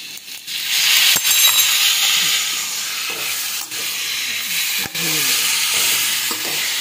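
Aloo gobhi curry of potato and cauliflower with a small tomato and red chilli powder stirred in a pan, a steady close sizzle with scraping spoon strokes and a few sharp knocks, no talk.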